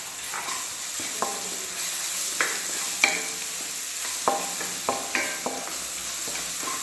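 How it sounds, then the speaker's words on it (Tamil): Ginger and garlic frying and being stirred in a pan while cooking baby corn, with a steady soft sizzle and repeated sharp scraping clicks of a spoon against the pan, no voices. "இப்போ இந்த ஸ்டேஜில் நம்ம இஞ்சி பூண்டு போட்டுறேன்"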